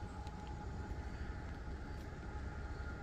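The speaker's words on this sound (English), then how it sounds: "Here a train over in West Virginia, just across the river. It's coming through," A train rolls through on tracks across a river in West Virginia, heard from a distance as a steady, continuous low rumble with broadband noise outdoors, no voices over it.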